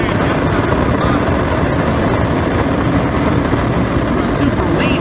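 A supercharged waste oil burner runs in a small micro forge, giving a steady, loud, broadband roar with no breaks throughout, like a forced-air flame blowing hard up close.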